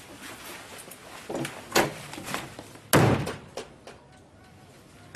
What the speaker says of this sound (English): don't slam the door on your way out